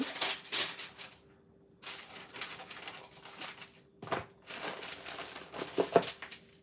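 A silicone mold filled with chocolate is tapped on a kitchen counter, giving a series of sharp, close knocks in irregular clusters with short quiet gaps between them.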